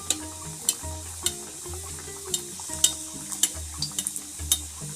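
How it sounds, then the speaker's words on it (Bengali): A mughlai paratha fries in hot white oil over a low flame, giving a steady close sizzle that sits under repeated sharp clinks and taps of a utensil against the pan. "আস্তে আস্তে তুলে আমি তেলে ছেড়ে দেব। এখানে আমি সাদা তেল গরম করে নিয়েছি"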